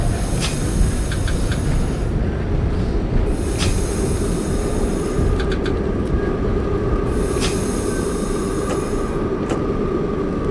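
A Q train on the Brighton Beach Line in the OpenBVE simulator game runs steadily, with a continuous loud rumble of wheels on track, repeated clicks over rail joints and intermittent high squeals, no voices.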